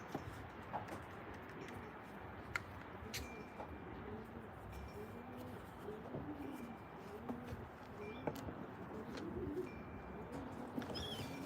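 Pigeons in a loft coo softly in low, rolling calls that repeat throughout, with scattered wing flutters and faint background noise.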